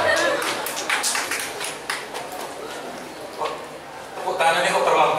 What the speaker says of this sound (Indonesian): Tepuk tangannya kok terlambat nih.